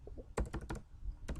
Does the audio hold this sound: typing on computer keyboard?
yes